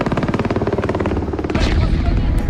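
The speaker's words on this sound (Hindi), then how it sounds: "गरजते हेलीकॉप्टर" Military helicopters roar over the battle for Kyiv, with a loud rhythmic pulsing chop of rotor blades that gives way to a sudden heavy burst of blast or gunfire.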